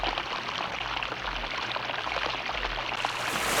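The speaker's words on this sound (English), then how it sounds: "when they saw the rushing water" River water rushes in a steady, broadband wash with no breaks, close and fairly loud, brightening slightly toward the end.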